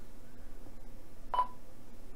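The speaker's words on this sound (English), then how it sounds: "And you hear the rig is beeping." A single short electronic beep sounds once from an Icom commercial radio transceiver during memory cloning, against a quiet background hum.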